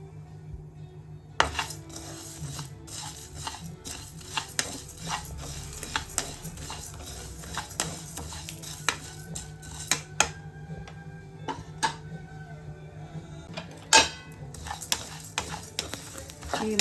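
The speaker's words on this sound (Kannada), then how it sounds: "ಫಸ್ಟು ನಾವು ಗರಂ ಮಸಾಲೆ ಇವೆಲ್ಲ ಹುರ್ಕೊಳ್ಳೋಣ" Garam masala and other dry spices being roasted in a pan for homemade green chilli masala, with steady clinks and scrapes of a utensil stirring against the metal, light tapping throughout and a faint low hum beneath.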